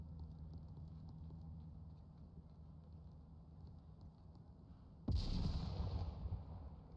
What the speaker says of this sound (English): A nade missing its mark.